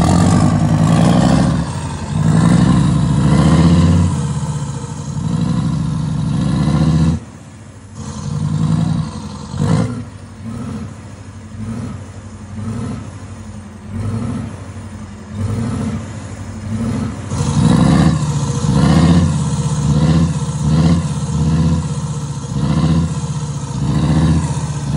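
A parked Scania P320 Euro 6 truck with an exhaust diffuser revs repeatedly, its deep diesel engine surging and falling in rhythmic bursts between rough idle, loud and close.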